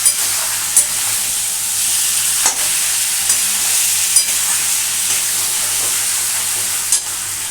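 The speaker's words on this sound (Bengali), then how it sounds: "আমি মাঝে মাঝে এসে একটু করে করে নাড়ছি। এটা ভালো করে একটু কষতে হবে।" Mutton kosha frying in a pan with a steady sizzle and hiss, broken by occasional sharp scrapes as the meat is stirred now and then; close, moderately loud, no talking.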